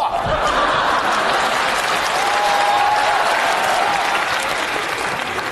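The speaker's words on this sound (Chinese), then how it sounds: "听见掌声了吗？" A comedy sketch audience applauds loudly and steadily throughout, with light chuckles mixed into the dense clapping.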